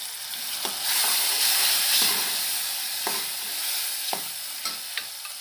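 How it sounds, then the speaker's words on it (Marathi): Cooked whole masoor lentils and fresh coriander sizzle in a hot pan, a steady close frying hiss broken by several soft scraping stirs, with no talking. "आणि आताच आपण थोडीशी कोथिंबीर टाकून घेणार आहे आणि आपला शिजवलेला मसूर टाकूया"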